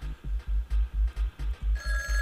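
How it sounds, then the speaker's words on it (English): A banana-shaped telephone rings in the comedy video game Jazzpunk, a rapid, loud electronic bell in repeated pulses, heard alone, with a sustained tone rising near the end. "It's a banana phone and a pineapple thing."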